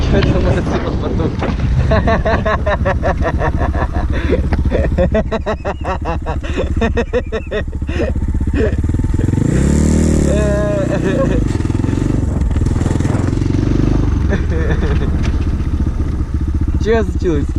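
A Kayo TT 125 motorcycle engine with a seizing motor runs with a rough, buzzing drone, heard outdoors under heavy wind buffeting on the microphone, with people talking nearby throughout.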